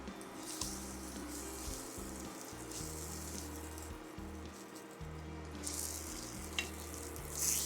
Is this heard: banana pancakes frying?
yes